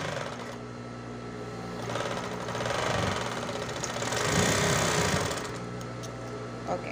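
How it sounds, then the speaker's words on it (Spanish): Sewing machine stitching stretch leggings fabric, a steady mechanical whir that swells and eases across the clip, with a quiet voice under it. "coloco exactamente a la altura del piquete y comienzo a coser"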